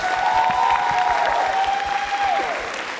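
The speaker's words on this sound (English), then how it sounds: "Let's give CLAID Chinese Fan another round of applause for their beautiful performance" Loud, steady crowd applause after a Chinese fan dance performance at a Chinese New Year showcase, with a sustained tonal note running underneath before dipping away near the end.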